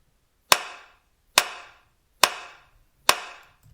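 Programmed clap samples in a music track, four crisp isolated claps evenly spaced in a slow steady rhythm, each with a short decaying tail, heard alone.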